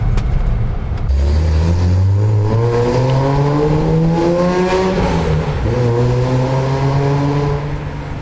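A Datsun 240Z sports car's 2.4-litre six-cylinder engine revs hard, its pitch climbing and dipping through a long, loud, sustained roar close by.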